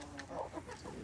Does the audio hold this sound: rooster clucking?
yes